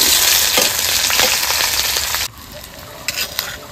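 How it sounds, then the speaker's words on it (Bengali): Bay leaf, dried red chilli, cardamom, cinnamon, cloves and chopped onion hit hot oil for tempering, giving a loud, close, continuous sizzle with stirring scrapes that drops off sharply partway through, followed by a few clinks. "তেলে ফোড়ন দিয়ে দেবো, তেজপাতা, শুকনো লঙ্কা, এলাচ, দারচিনি, লবঙ্গ, পেঁয়াজ কুচি দিয়ে দেবো"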